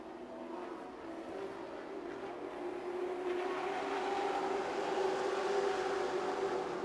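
Super trucks race around the oval at Music City Motorplex in Nashville during a heat race, a distant, steady engine roar that slowly grows louder as the pack approaches.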